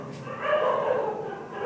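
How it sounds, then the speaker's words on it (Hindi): Several dogs barking and yipping out in a street, somewhat distant and continuous through the whole stretch, mixed with faint background voices. "बहुत सारे कुत्ते हैं जो गली में भौंक रहे हैं"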